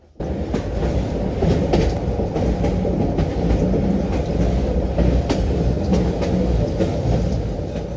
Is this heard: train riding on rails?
yes